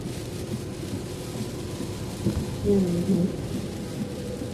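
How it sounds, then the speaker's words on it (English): Heavy rain pours steadily outdoors as a broad, constant hiss, with a brief low rumble in the middle, continuing without talk. "It started raining so bad"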